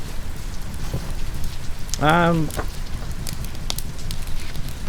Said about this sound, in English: just the rain outside, and you can hear the fire and crackling